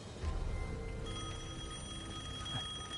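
An old telephone in Devil May Cry 5 rings steadily with a continuous metallic bell trill, close and even in level over a low background hum.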